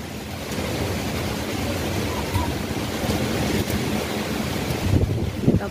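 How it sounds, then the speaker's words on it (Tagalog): Strong wind blows outdoors on a day when mangoes are being gathered, a steady loud roar buffeting the microphone throughout with a few heavier gusts near the end and no talking. "Talaga yung hangin."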